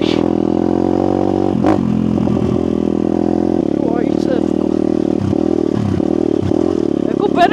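A YCF pit bike engine drones steadily while riding uphill, a close, continuous buzzing hum with small shifts in pitch and occasional clatter, heard under someone talking.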